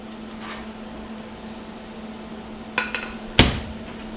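A few sharp metallic knocks from a hammer and dolly shaping a recycled steel cab corner panel in a workshop. The blows are brief and close, with the last one loudest, over a steady background hum.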